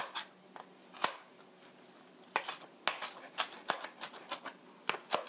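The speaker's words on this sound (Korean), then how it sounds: "다져 주시고요." An onion is minced with a knife on a cutting board for a spicy seasoned chicken sauce: sharp, irregular chops sounding close, some single strikes and some quick clusters, with quiet gaps between.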